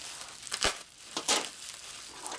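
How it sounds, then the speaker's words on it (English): A plastic package is cut open, giving faint crinkling and a couple of sharp tearing snaps against quiet background, with no talking. "How do you open this damn thing? I'm just going to cut it open."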